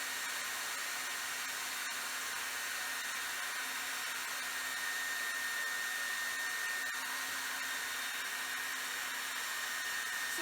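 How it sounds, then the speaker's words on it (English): A hair dryer blowing steadily over melting crayons, a constant whooshing motor hum with an even airflow hiss that runs unbroken throughout. "How you angle the hair dryer, what happens."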